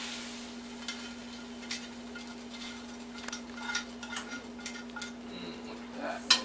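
Cooked pasta-style dinner for two being scraped and dumped from a pan into a serving dish, with scattered clinks and scrapes of utensil on cookware over a steady low kitchen hum, getting busier toward the end.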